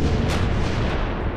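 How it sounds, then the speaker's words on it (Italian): HMS Belfast's 150 mm naval guns firing a continuous heavy, rumbling broadside barrage, dense and loud throughout with no distinct gaps between shots. "Il rombo di questi cannoni è un suono rassicurante per i soldati nervosi che si dirigono verso la riva."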